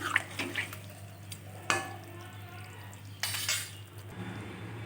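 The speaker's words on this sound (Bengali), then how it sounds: "জল অ্যাড করে দিচ্ছি।" Water poured into a cooking pan while preparing a Bengali fish curry with ridge gourd, heard as faint splashing and sloshing with light clinks of utensils against the pan over a steady low hum.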